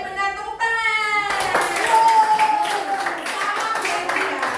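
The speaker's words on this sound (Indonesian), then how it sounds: "Tepuk tangan." A group of people breaks into applause after a run of tonal sound, with dense clapping that fills the rest of the moment at moderate loudness.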